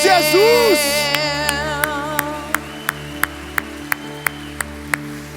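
A church congregation claps in steady rhythm, sharp evenly spaced claps ringing out over sustained worship music and singing in a hall.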